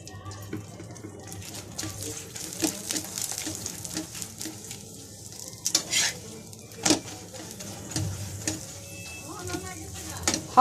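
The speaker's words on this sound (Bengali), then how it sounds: "পরোটার সাথে পটল দিয়ে আলু ভাজি করছি।" Potato with pointed gourd frying in a pan alongside paratha, soft sizzling with scattered stirring scrapes and utensil clinks, while people talk intermittently nearby.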